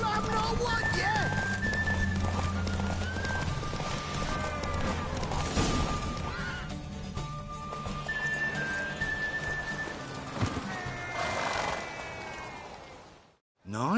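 A horse gallops in a race in The Witcher 3, rhythmic hoofbeats under game music and voices talking, with clinks and a whinny.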